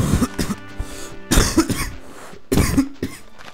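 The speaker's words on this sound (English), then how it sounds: "I hate a cough." Several harsh coughs burst out close to the microphone in clusters with short pauses between them, mixed with throat clearing, during Minecraft play.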